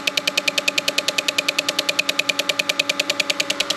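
A fuel injector on a turbocharged V8 clicking during an ECU output test, a fast, perfectly regular train of sharp ticks close up over a low engine-bay hum.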